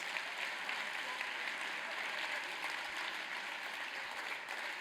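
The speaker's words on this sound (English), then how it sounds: "A big round of applause." Steady, dense audience applause fills a TEDx talk hall as a volunteer is invited on stage, even and sustained throughout with no break.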